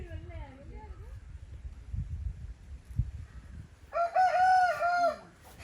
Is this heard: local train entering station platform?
no